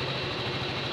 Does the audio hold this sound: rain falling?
no